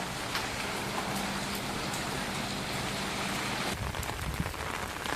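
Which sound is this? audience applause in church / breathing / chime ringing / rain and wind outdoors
rain and wind outdoors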